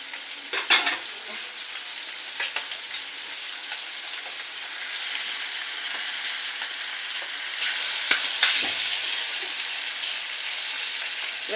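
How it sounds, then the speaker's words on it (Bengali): Fish fries in mustard oil in a wok with a continuous crackling sizzle, broken by occasional utensil taps and spitting pops close at hand. "আমি এটা সরষের তেলে রান্না করছি বলে ওই জন্য এটা কিছু হচ্ছে আমরা গায়ে ছিটকে আসছি মাছ ভাজি করে দিচ্ছি"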